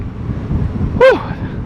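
Low, rumbling wind buffets the microphone on Beach Road in Pattaya, with a brief sharp voiced exclamation cutting through near the end.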